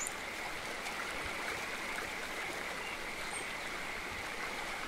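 Continuous rush of a shallow stream in the game Eastshade, an even, close burble of flowing water that holds steady throughout without speech.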